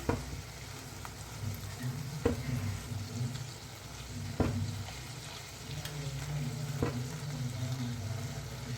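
Egg curry frying gently in masala in a pan on a low flame, with a steady sizzle and a few soft spoon scrapes at intervals as it is slowly stirred.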